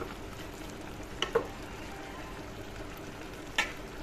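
Fried fish is stirred into a sponge gourd curry in a pan over a low, steady sizzle. A few sharp utensil scrapes and clinks stand out briefly, with no talking.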